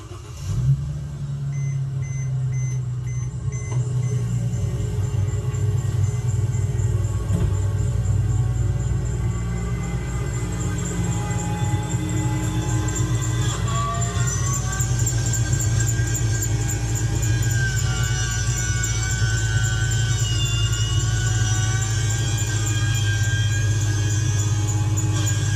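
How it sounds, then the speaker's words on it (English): A Mercedes-Benz C300 W204 with a loud engine noise problem idles close by after starting, a steady heavy drone with a whining, squealing tone rising over it and a faint beeping at the start. "when I turn the car on, it's got that loud noise in the engine."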